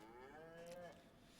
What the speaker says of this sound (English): some cows have apparently turned up here